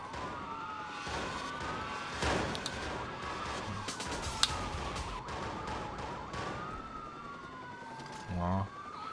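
Police sirens wail through a car chase in the Watch Dogs video game, layered over engine noise and a sharp crash, with continuous gliding tones throughout and a low thump near the end.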